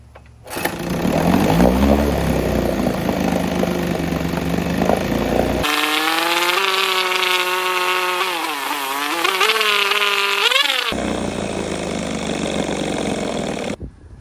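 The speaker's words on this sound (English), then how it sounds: "first start after going through the carb, fixing the throttle linkage and everything. So we're gonna see how it runs." A 1970 Evinrude 6 hp outboard motor with a freshly rebuilt carburetor and repaired throttle linkage starts up loud and close. It runs with a steady buzzing drone that rises and dips in pitch as the throttle changes, then cuts off abruptly near the end.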